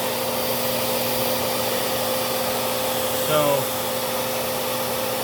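A Miele S7 Bolero upright vacuum runs at steady full power, a broad constant airflow roar with a tonal whine, and a brief voice cuts in once near the end.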